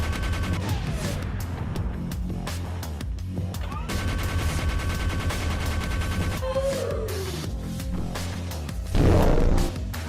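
Gunfire in the video game Fractal Block World rattles out in rapid bursts over a droning electronic score, with sliding synthetic tones between volleys and a louder blast near the end.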